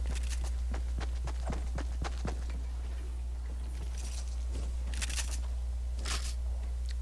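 Footsteps in Fortnite: a quick run of light, evenly spaced steps in the first two seconds, then a few scattered louder thumps, all over a constant low hum.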